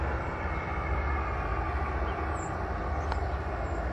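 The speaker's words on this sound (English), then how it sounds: "You hear the factory and the train and all the assorted noises that we hear in this neighborhood" A train and factory rumbling through a neighborhood, a steady, distant low roar that holds evenly throughout with no voices.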